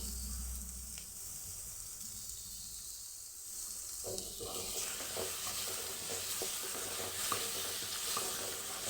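Chopped tomato is sautéed with rock salt in a pan for ivy gourd thuvaiyal. A steady sizzle grows louder and brighter midway, with scraping stirs and soft crackles throughout.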